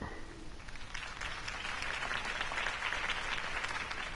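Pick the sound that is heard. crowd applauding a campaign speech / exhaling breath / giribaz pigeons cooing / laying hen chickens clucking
crowd applauding a campaign speech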